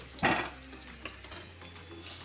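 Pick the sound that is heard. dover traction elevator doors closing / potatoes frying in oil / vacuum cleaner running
potatoes frying in oil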